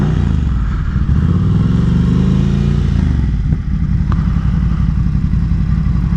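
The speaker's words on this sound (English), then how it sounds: "This is the way this bike should sound from the factory. It sounds so good." A Ducati Scrambler motorcycle fitted with a Competition Werkes slip-on exhaust idles loud and close, its deep, lumpy exhaust note rising in a brief rev partway through before settling back to a steady rumble.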